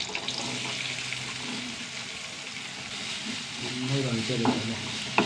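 Sliced onions sauté in a hot pan with a continuous soft sizzle and frying hiss, while occasional stirring scrapes rise toward the end.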